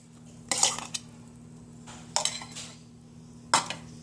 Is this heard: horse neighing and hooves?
no